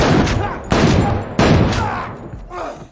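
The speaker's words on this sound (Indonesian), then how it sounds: "Meskipun terkena beberapa kali tembakan, Alec tetap berusaha menghampiri Victor" Three sharp gunshots in a film ring out in quick succession, each with a booming echo, followed by a fainter fourth blast.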